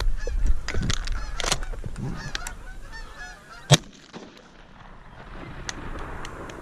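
A late-season flock of geese honks loudly and chaotically as it lifts off in a hunting field, the calls overlapping and then thinning out, with a single sharp bang partway through.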